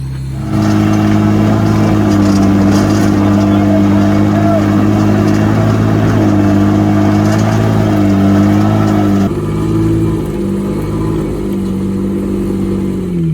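Jeep Wrangler JK engine revving hard during an off-road climb up a steep rocky V-notch trail, loud sustained revs that rise and fall and then drop to a lower idle near the end.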